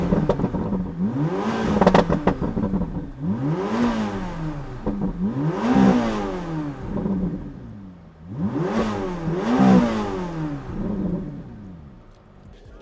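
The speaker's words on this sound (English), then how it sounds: "Let's see what it sounds like on idle, then see what it sounds like when I rev it up." Corvette C8 ZR1 engine idling, then revved three times in repeated rising-and-falling swells, each blip climbing sharply before dropping back to a steady idle, loud and close with no talking.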